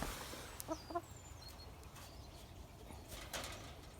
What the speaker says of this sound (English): there we have a couple of the hens